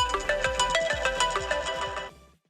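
Mobile phone ringtone on an outgoing call: a bright, fast repeating melodic tone plays loudly for about two seconds and then cuts off abruptly.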